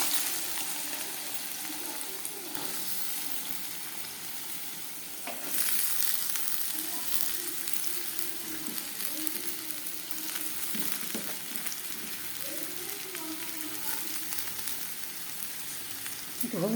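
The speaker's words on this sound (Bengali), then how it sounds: "তেলটা গরম হোক, তারপরে আলু ভাজাটা দিয়ে দিই।" Potatoes fry in hot white oil in a wok, giving a steady, close sizzle for the whole stretch, with a few brief stirring clatters and no talking.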